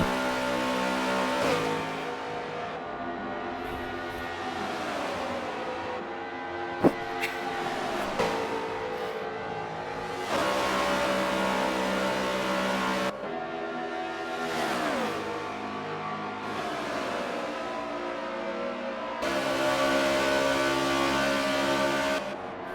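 NASCAR stock cars in a racing video game sweep past one after another, engines rising and falling in pitch with each pass, several distinct waves of moderate-volume roaring over a constant engine drone, no speech.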